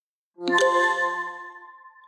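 A computer plays a single bright, bell-like chime when a phone's USB cable is plugged in, ringing clearly and fading out over about a second and a half in a quiet room.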